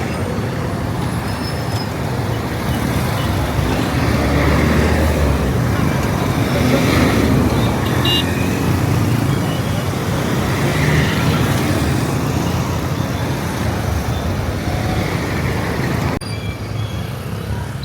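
Dense road traffic of cars and buses on Jinja Road at Nakawa, a steady loud rumble of engines and tyres that carries on without a break.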